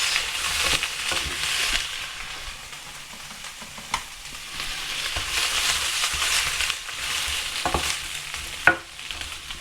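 Sweet corn and other food fry in a pan, giving a steady, close sizzle with occasional scraping stirs and clatters of a utensil, and no talking.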